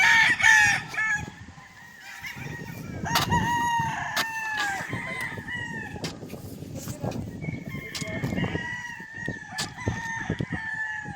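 Chickens squawk and cluck loudly and agitatedly as a pitbull attacks one, with a rooster-like crow at the start, while people talk excitedly in the background.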